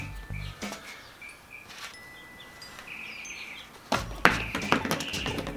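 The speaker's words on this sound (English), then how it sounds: "Some loud birds." Birds call outdoors in short chirps and whistled notes, scattered at first and then growing busier and louder near the end against a quiet background.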